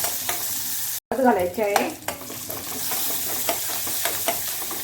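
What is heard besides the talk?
curry leaves and crushed chillies stirred in frying oil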